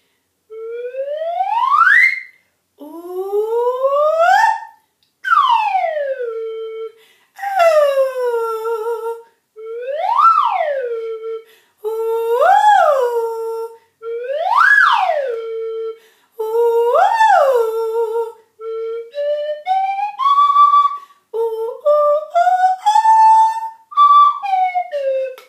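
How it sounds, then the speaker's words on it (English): A slide whistle in an elementary music class plays about a dozen separate swooping glides, rising and falling in pitch with short gaps between them. It sounds loud and close, with no voices. "We're gonna warm up our voices with the slide whistle."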